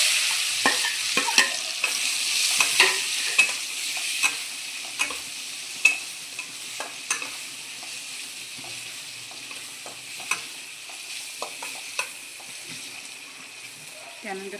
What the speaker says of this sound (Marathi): त्यानंतर हा कांदा चांगला फ्राय होऊ द्यायचा।